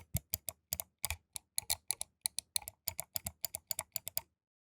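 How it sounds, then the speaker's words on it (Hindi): Crisp clicks from a Logitech MX Master 3 mouse, about twenty in quick, slightly uneven bursts over four seconds, loud and close, with no voices. "इस माउस में ये क्लिक का साउंड आ रहा है"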